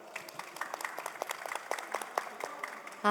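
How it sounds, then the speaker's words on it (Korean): Scattered applause from a small audience at a startup investment event, individual claps distinct and moderately quiet, ending in a sudden louder burst. "박수 부탁드리겠습니다."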